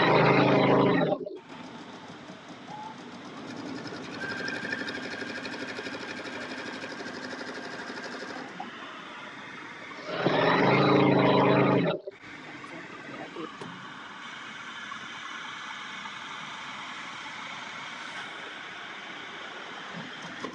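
Domestic sewing machine stitching quilt pieces, a steady mechanical whir running through most of the stretch, briefly pausing and restarting, with faint background sounds.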